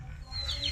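A farm hen clucks softly and briefly over a low background rumble, with a faint bird-like call near the end.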